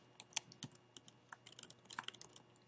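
A word being typed on a computer keyboard during spreadsheet data entry in Excel 2007, a quick irregular run of light, close key clicks with one or two sharper taps, alone and quiet.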